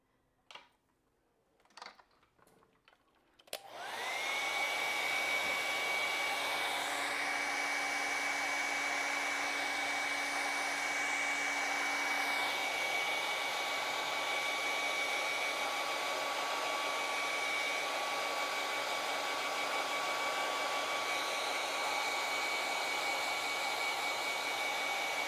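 A hair dryer blows over wet acrylic paint, a steady, loud whirring hum that switches on after a few seconds of quiet clicks and runs continuously to the end.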